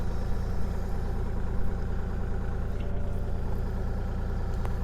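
A Kubota KX040-4 excavator's warmed-up engine idling nearby, a loud, steady low diesel rumble with an even pulsing throb and no change in speed.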